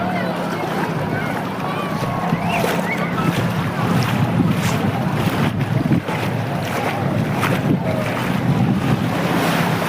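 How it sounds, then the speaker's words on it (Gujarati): Sea waves at a beach roll and wash in as a constant roar, with heavy wind buffeting the microphone throughout. Voices can be heard faintly under the surf. "જોઈ લે મોજા"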